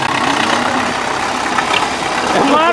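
An MTZ 80 tractor engine runs close by with a steady mid-pitched diesel rumble, while a voice talks over it.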